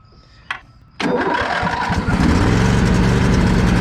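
A Briggs & Stratton lawn tractor engine, with a freshly cleaned carburetor, cranks briefly from cold, then catches and roars to life, settling into a loud, steady idle close by.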